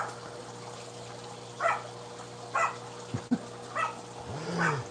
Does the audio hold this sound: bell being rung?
no